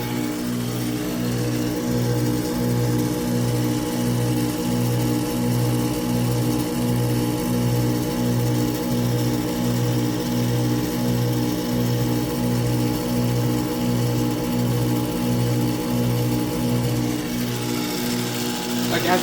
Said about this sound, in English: I don't think I've never heard a scroll compressor sound this good before.